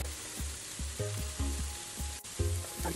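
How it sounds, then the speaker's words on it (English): Minced garlic sizzles in a hot pan while a stuffed-mushroom starter is cooked, with a steady close frying hiss and a run of low rhythmic knocks from a utensil, and no voices. "We'll add in my minced garlic"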